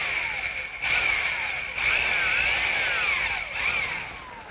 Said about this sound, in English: now to drill the hole, I'm just using a 15/16 inch speed bit